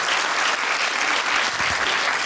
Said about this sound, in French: On a des parents un petit peu par applaudissement, là?